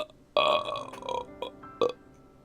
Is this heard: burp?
yes